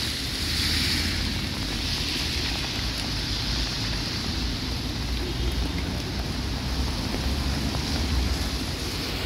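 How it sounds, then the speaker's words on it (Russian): Loud, steady rush of a mountain river in Goryachy Klyuch, Krasnodar Krai, a continuous broadband roar with no pauses and no voices. "Вот такая вот наша горная река."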